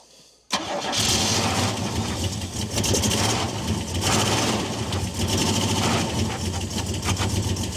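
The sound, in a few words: 1980s tuned car engine starting and idling unevenly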